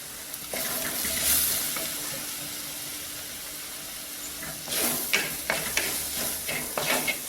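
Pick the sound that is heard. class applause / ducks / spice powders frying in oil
spice powders frying in oil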